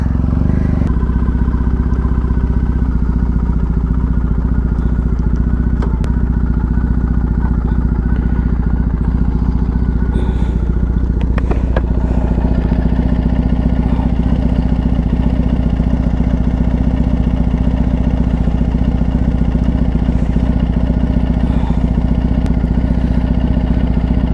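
A motorcycle being ridden on a road trip to a waterfall, its engine droning loud and steady throughout, with wind rumble and occasional rattles.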